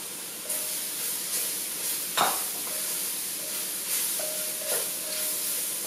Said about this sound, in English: I'm putting in the crimini mushrooms.